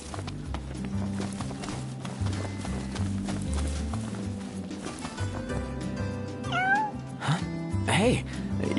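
Final Fantasy XV game audio with music and footsteps, followed by a couple of short rising cat meows near the end over the background.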